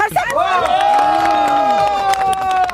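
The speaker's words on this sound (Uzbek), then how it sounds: "Qani, qarsak." A crowd at a village gathering breaks into a brief, loud burst of cheering and shouting with some clapping mixed in, voices rising together close by.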